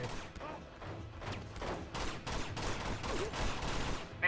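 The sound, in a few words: gunfire in Uncharted 2 video game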